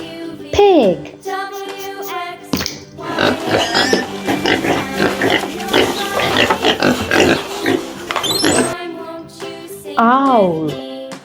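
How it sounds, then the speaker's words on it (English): A pig grunts and oinks in a busy stretch of snorts close up, framed by short musical jingles before and after. "Pig."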